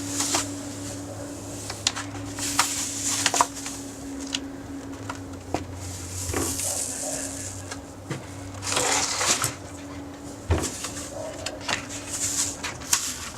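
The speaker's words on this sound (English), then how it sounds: "Peel it up from the corner." A stencil is peeled up from its corner, giving intermittent crackling, ripping bursts close by over a low steady hum, with no talking.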